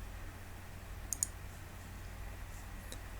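A computer mouse clicks a quick double click while drawing a polygon shape in video display software, a brief crisp tap against faint room hiss.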